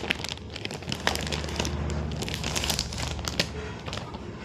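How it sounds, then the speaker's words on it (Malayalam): Crinkling and crumpling of wrapping on a gift being unboxed, a steady stream of close, busy crackles and rustles running throughout with no talk. "ഓക്കെ, നമുക്കിത് അൺബോക്സ് ചെയ്യാം."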